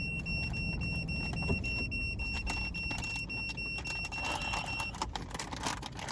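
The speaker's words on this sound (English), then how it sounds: "Uh-oh, my car beeping." A car sounds a steady electronic beeping tone, a continuous high pitched chime that runs for about five seconds before stopping, with rustling and handling noise around it.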